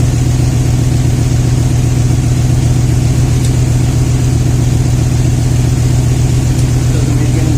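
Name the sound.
2000 Toyota Tundra engine idling with misfire, coil unplugged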